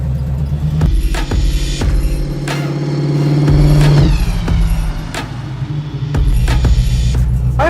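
A 1972 Dodge Charger engine, a show-winning car fitted with a turbo, idles loud and close with a deep throbbing rumble, punctuated by sharp blips and short revs that rise and fall throughout.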